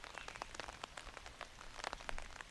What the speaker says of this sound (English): it's really starting to rain now